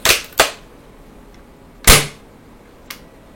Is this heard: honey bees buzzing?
no